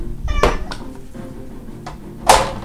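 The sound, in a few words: cat meowing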